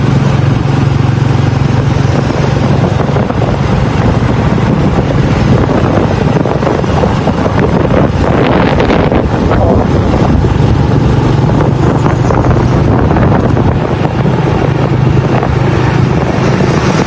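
Strong, dry wind buffets an ordinary phone's microphone outdoors in Pakse, Laos, a loud continuous rumbling roar that swells and eases over many seconds with no talk.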